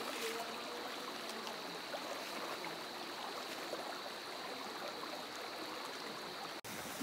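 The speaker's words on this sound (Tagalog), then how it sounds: "Ito ang bukal dito sa ilog ng Sorsogon, Barcelona." Spring water flowing into a river at Barcelona, Sorsogon, a steady close trickling and babbling stream that runs without pause, with no talk over it.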